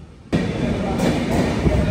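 The Flying Ranee Express pulls out of the small Amalsad railway station, a loud, steady rail rumble rising abruptly after a brief quiet moment and continuing without a break, heard close up from on board.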